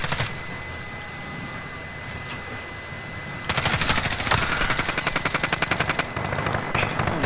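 Gunfire in a Call of Duty Modern Warfare team deathmatch on the Hackney Yard map. Steady game ambience gives way to a loud run of rapid, evenly spaced shots that continues to the end.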